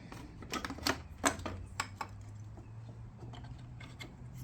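An LED turn signal being pressed and snapped into a Jeep front grille gives a cluster of close, faint plastic clicks and ticks over the first two seconds, then softer scattered taps against a low hum.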